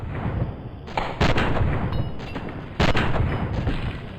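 Slowed-down gunshots in Fallout: New Vegas, heavy booming reports that hit twice and then ring out in long, dull, drawn-out tails, loud and close.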